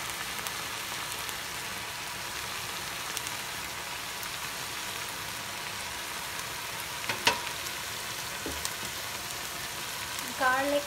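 Vegetables stir-frying with chili flakes and black pepper in a hot pan, giving a steady, even sizzle with a few sharp clinks near the end.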